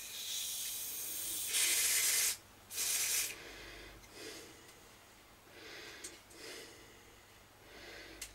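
Aerosol cleaner hisses onto the record-play switch of a GEC tape deck in two strong bursts, about a second each, followed by fainter short sprays and quiet handling noises.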